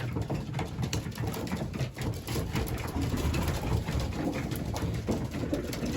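Young racing pigeons in a loft coo softly and repeatedly, low burbling calls among rustling and shuffling, fairly close and with no talk over them.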